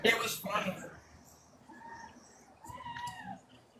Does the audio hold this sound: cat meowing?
yes